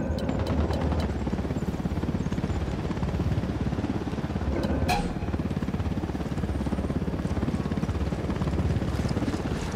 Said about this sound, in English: Chopper, hit the dirt.